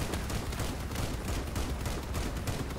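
Auto cannon fire in the vehicle combat game Crossout: a loud, dense, unbroken stream of rapid shots and impacts that lasts the whole stretch, with no pause between rounds.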